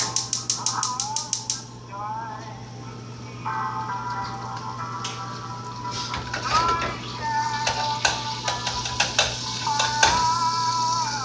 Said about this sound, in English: I can put the roux into this soup pot, blend in the ingredients, and slowly add the beans and the celery